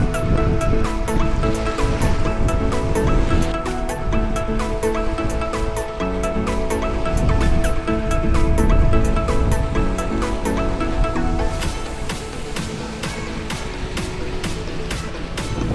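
Ocean surf rolls and crashes continuously, a loud steady wash of water with faint tonal music layered in the background.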